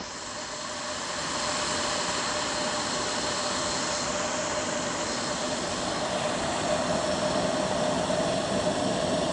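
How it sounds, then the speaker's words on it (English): MSR camping stove burner roaring steadily while boiling water, a dense, close, even hiss that swells slightly after the first seconds and holds with no talk. "we're just honestly going to keep the camera rolling while it boils the water because it's that fast"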